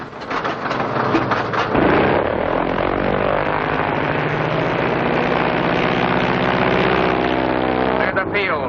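A droning bomber engine in an old radio serial, a loud sustained propeller roar whose pitch shifts and sweeps as the plane comes in for an emergency landing, with voices talking over it.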